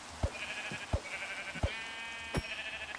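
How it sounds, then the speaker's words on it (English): Sheep bleating in the Minecraft video game, four short separate bleats spaced about two-thirds of a second apart, fairly close and clear over a soft steady background hum. "Hello, sheep."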